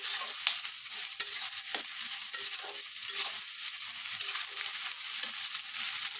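Salted onion paste fries in a pan for Odia-style chicken kasa, with a constant sizzle and the occasional scrape of stirring, heard up close without speech.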